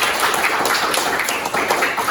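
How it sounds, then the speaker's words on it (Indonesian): Schoolchildren in a classroom clap their hands together, a dense, steady burst of close clapping that fills the whole short moment without any voices on top. "Tepuk tangan buat."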